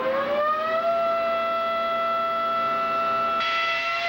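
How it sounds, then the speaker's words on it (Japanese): A Toyota TF103 Formula 1 car engine fires up, its high tonal whine quickly climbing in pitch and then holding steady and loud, with a shift in tone near the end. "エンジンに火が入った。"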